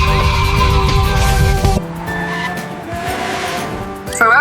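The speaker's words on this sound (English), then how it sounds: "Ferrari car on the move!" A cartoon red Ferrari race car drives off with a loud engine roar and sharp tire squeals, the sound dropping to a lighter engine hum before a final squeal.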